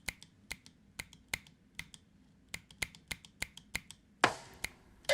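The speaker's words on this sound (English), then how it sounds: "and the next one's finger snap." Crisp finger snap sample triggered repeatedly on a Teenage Engineering OP-XY drum sampler, sharp dry clicks in an uneven rhythm, ending with a louder, brighter hit; quiet and close with no talking.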